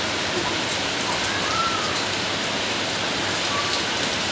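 Steady rain falling outdoors in Uttarakhand, a dense continuous hiss of drops striking surfaces, loud and unbroken throughout with no talk.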